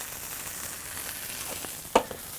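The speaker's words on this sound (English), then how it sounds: "Get that nice sizzle, which is good." Impossible Burger patties frying in a hot pan, a steady close hiss of sizzling oil with a sharp clack near the end as something strikes the pan.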